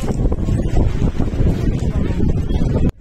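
Strong, cold mountain wind at Rohtang Pass near Manali in July buffets the microphone in a loud, continuous roar that cuts off abruptly at the end.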